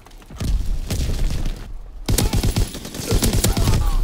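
Lewis gun firing in Call of Duty WW2 multiplayer, loud rapid bursts of automatic fire close by, a short burst, a brief pause, then a longer sustained stream of shots.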